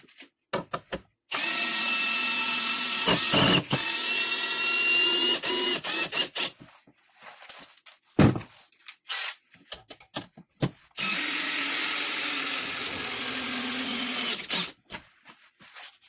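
A DeWalt 12V Xtreme cordless drill whirs loudly in two long bursts as it drives into wood at speed 1 with the clutch overridden, with brief clicks and handling noises between runs.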